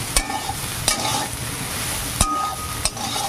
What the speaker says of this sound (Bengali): এবার আমি সোয়াবিনগুলো দিয়ে ভেজে নেব